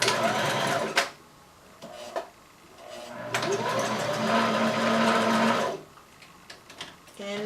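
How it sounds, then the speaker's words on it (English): A sewing machine runs a zigzag stitch on stretch swimsuit fabric in bursts: a short run, brief stops with small clicks, then a longer steady whirring stretch before halting, close by. "I'm just going to go ahead and use a zigzag stitch for this"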